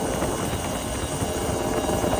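A 1988 Yamaha DT50LC two-stroke motorcycle engine holds a steady, buzzing drone on a summer night ride, heard close and continuous, with wind rush and no voices.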